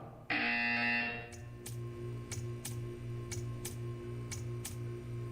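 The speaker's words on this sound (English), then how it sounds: "You will hear a buzzer." A harsh electronic buzzer blares for about a second, followed by a steady series of sharp ticks at an even pace.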